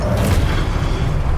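A loud, dense blast from the Confringo fire spell in Hogwarts Legacy, a full booming burst that fills the whole short moment with no pause or voice.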